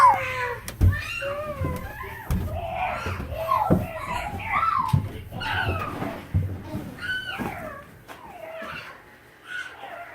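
A voice makes a string of wavering, drawn-out meow imitations, close and uneven in loudness, with short knocks and thumps between them.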